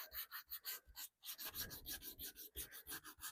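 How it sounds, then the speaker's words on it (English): Steady back-and-forth rasping of 220-grit sandpaper scuff sanding a surface, rhythmic strokes close up with a brief pause partway through. "so just some 220 sandpaper just to give it a scuff sanding"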